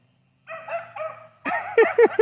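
A beagle puppy gives a few short whiny yips, then breaks into a run of loud, sharp, rapid barks close by.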